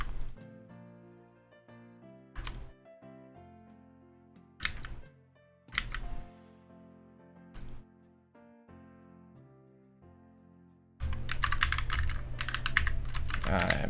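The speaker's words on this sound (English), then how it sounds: "I just want to keep typing this out like this." Typing on a computer keyboard during coding work: scattered bursts of keystrokes over a steady tonal background, giving way after about eleven seconds to dense, loud, continuous clattering.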